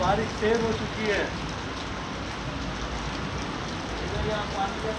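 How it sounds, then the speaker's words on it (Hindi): Steady heavy rain pours down in a continuous hiss in Mirpurkhas after 45-degree heat, with a voice speaking faintly at the start. "इधर यहाँ पानी के अंदर इतनी तेज बारिश आ रही है"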